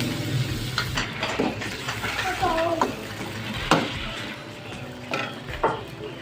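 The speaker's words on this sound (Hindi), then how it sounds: "और अच्छे से मिक्स करेंगे इसे।" Chicken korma with tomatoes is stirred in a pot, giving a wet scraping churn and soft sizzling with occasional spoon knocks against the metal, close and clear.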